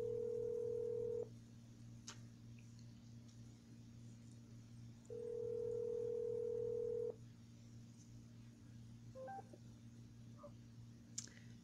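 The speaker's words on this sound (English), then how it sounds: "Calling Finley River's mobile." An Amazon Echo Dot with Alexa places a phone call, giving two long, steady ringback tones separated by a pause over a constant low hum, followed by faint clicks.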